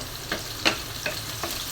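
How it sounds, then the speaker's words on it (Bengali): Chopped onions fry in hot oil with garam masala and bay leaf while a spoon stirs them, a steady sizzle broken by four evenly spaced scraping strokes, fairly quiet and close. "পেঁয়াজটা ভালো করে ভাজা ভাজা করব।"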